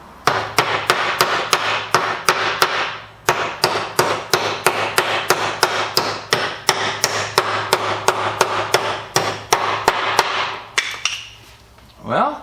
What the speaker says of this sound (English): a lot of hammering to do